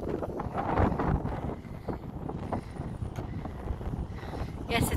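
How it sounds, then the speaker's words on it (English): Strong wind buffets the microphone at a country park in Sunderland, a continuous low rushing roar with gusty swells throughout and no clear speech over it. "yes, it's very windy."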